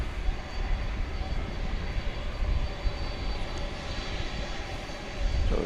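A plane rumbles steadily at DFW airport at night, a broad continuous engine roar at moderate distance that swells slightly near the end, with no talk.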